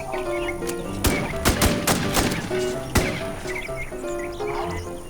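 Gunfire in the video game Infestation: a handful of sharp, loud shots, several clustered close together and one more after a pause, over a steady busy game background.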